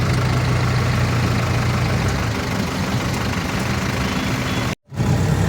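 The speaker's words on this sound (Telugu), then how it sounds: "చూడండి, ఇక్కడైతే చాలా ట్రాఫిక్ అయితే ఉంది." Vehicle engines idle in heavy road traffic in Tirupati, a dense continuous low rumble and hum of nearby motors, steady throughout with a brief dropout near the end, no talking.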